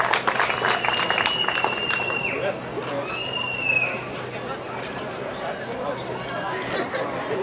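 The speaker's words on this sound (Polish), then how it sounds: "Wielkie brawa dla Mikołaja." Scattered applause from an outdoor audience at a sailing regatta award ceremony, moderate and uneven, mixed with crowd chatter and people talking nearby, with some brief whistling or squeaking sounds.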